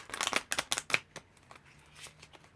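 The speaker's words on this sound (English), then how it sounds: "Oh, that was an awful shuffle" Riffle shuffle of an older deck of playing cards from an estate sale haul, a quick burst of crisp fluttering card snaps over about a second, then a few soft taps and rustles as the deck settles.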